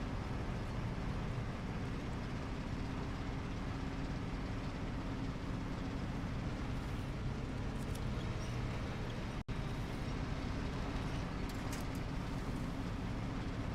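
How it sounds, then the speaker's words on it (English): A truck engine in the PS5 game Truckball hums as a steady, low, broadband drone, constant in level throughout with a brief dropout near the middle and no talk. "I like the sound of this truck."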